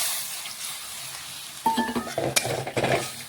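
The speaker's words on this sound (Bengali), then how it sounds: "এখন ভালোভাবে নাড়াচাড়া করে মিশিয়ে নিচ্ছি।" Potatoes coated in cashew and poppy seed paste are stirred in a pan: a quiet low sizzle at first, then a run of close scraping and clinking strokes from a utensil against the pan.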